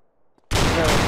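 A loud gunshot burst from a gun in MTA DayZ erupts abruptly after a near-silent moment and rings out close and sustained to the end.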